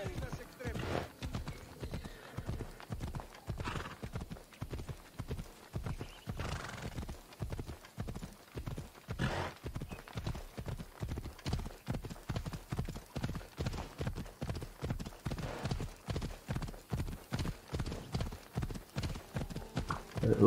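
Horse in Assassin's Creed Odyssey gallops at a steady, fast rhythm of loud, close hoofbeats throughout, with a whinny partway through and the sound building at the end.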